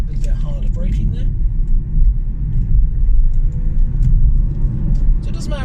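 A Hyundai Kona Electric drives along with a steady low road rumble and some interior noise, and there is a brief firmer braking moment with no clear distinct braking sound.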